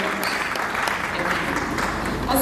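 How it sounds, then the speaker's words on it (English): Audience at a 10th anniversary memorial lecture claps steadily, dense continuous applause filling the room at moderate loudness, with voices mixed in. "Can we all clap for all the great people of this great family?"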